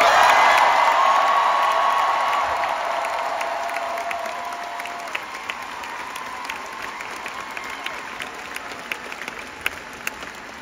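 Concert crowd at a live show applauding and cheering for a band member: a dense wash of clapping with whoops that starts strong and slowly fades, with scattered claps continuing toward the end.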